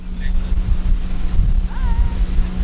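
A small boat racing fast down a river, loud rumbling wind buffeting the microphone over a low engine drone and rushing water, with a brief whistle-like tone partway through.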